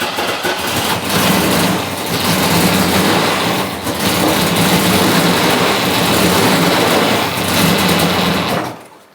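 An 80s Mercedes AMG Hammer V8 wide-body coupe engine runs loud and close with fuel starvation, a rough, uneven roar that surges and sags for several seconds before cutting out.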